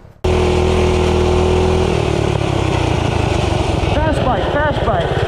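A 90-degree Sidewinder mini bike engine sounds loud and close, starting abruptly and holding a steady buzzing drone that rises as it accelerates, while a voice talks briefly over the engine near the end.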